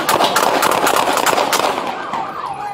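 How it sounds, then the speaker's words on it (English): Rapid loud bangs of gunfire during a police chase in downtown Los Angeles, a dense burst of sharp cracks and impacts over a siren-like wail, crowded and chaotic, close and sustained for the whole stretch. "Shots fired. Officer needs help."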